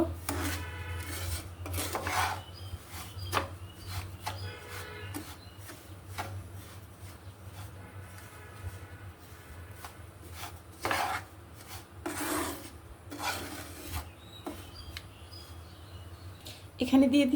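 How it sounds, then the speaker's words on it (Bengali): Spoon scraping and rubbing against a bowl while sugar is mixed into jackfruit puree, a steady soft rasp with occasional clinks, close by over low background hum. "চিনিটা ভালোভাবে মিশিয়ে নিব"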